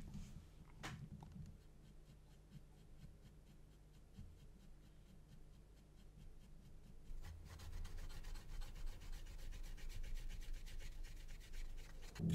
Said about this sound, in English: Just a bit of dry brushing now to bring the highlights out.